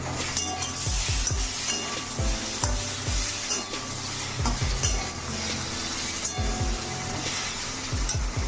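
Potatoes and cauliflower fry in a pan with a steady sizzle, while a utensil scrapes and clinks against the metal in repeated strokes throughout, close and fairly loud, with no voices.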